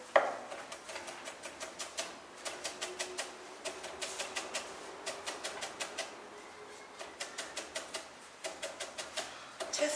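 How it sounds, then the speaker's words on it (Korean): A knife finely chopping and julienning food on a cutting board, heard up close in rapid, rhythmic bursts of crisp taps separated by short pauses, with no talking. "채 썰고 이렇게 잘게 썰어 주신 다음에"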